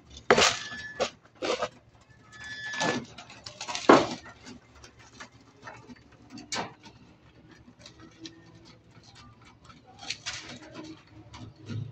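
Six hungry pigeons, one of them red checkered, peck at feed with scattered sharp clicks and taps, joined by a few soft coos and rustling, close by and fairly quiet.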